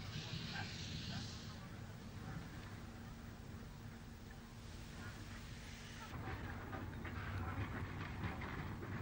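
A narrow gauge steam locomotive on an Irish railway moves off toward the shed, its steady rumble and rolling wheel noise continuous and moderately distant while someone narrates over it.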